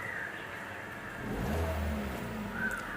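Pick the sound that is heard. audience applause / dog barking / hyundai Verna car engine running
hyundai Verna car engine running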